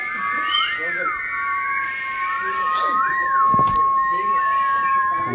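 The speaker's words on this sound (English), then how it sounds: "who can whistle longest?" Several people whistle at once, sustained steady tones with rising and falling swoops layered together, fairly loud and continuous throughout, with faint room murmur underneath.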